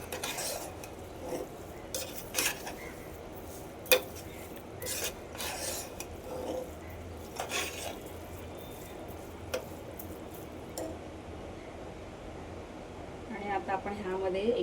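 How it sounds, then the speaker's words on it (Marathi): Spoon scraping and stirring carrot halwa with sugar in a pan, intermittent metallic scrapes and taps close by under a steady background hiss. "साखर ॲड केल्यानंतर पुन्हा एकदा आपण ह्याला परतून घेणार आहोत।"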